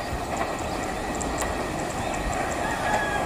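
Steady broadband rumble of the Kertajaya long-distance passenger train passing in Indonesia, loud and continuous, with faint high squeals and clicks from the rails throughout.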